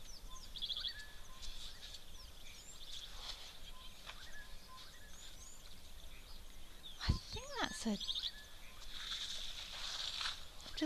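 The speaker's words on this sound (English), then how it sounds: "Just listen to that bird calling in the background." Bird calls ring out at a waterhole, short chirps and a few sweeping whistles scattered across the clip over a steady outdoor ambience, with faint background voices.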